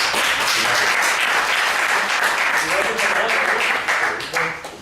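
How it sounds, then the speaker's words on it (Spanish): An audience applauds at a Spanish film-club screening in a memory-history series, with sustained clapping and voices heard beneath it that thin out near the end. "Un aplauso para..."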